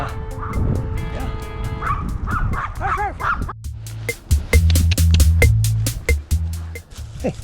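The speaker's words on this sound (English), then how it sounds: "except for this barking dog" A dog barks repeatedly near a river, sharp yips and bow-wows coming in quick irregular bursts, loud and close, over a low rumble of a passing car and some background noise.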